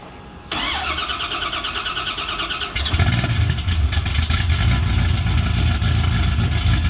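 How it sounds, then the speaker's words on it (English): A car engine starts up and settles into a loud, steady idle as it warms, its rumble growing fuller and stronger after a few seconds, with no talking over it. "He's just started to get some heat in the engine"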